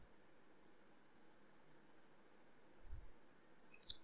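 Two or three crisp computer mouse left clicks land near the end of a quiet stretch with a faint fan-like hiss underneath, each click short, dry and close by.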